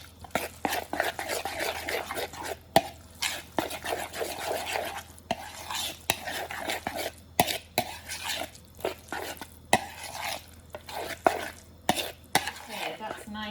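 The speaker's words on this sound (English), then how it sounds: "And then I'm going to mix that all together in the bowl. Give it a really good mix." Spanakopita filling being mixed in a bowl, a close run of irregular wet stirring and scraping strokes with sharp clicks, with no talking.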